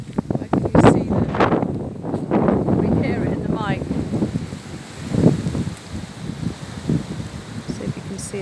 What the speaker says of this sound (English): It's so windy, it's blowing my camera around.